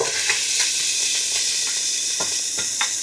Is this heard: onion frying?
yes